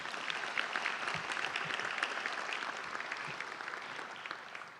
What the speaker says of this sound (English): Can they have another round of applause